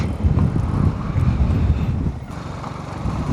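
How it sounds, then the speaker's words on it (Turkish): Wind roars and buffets the microphone of a Honda ADV 350 riding a winding Mediterranean coastal road toward Kaş, a steady, loud low rumble with slight surges throughout. "Bakar mısınız ya rüzgara?"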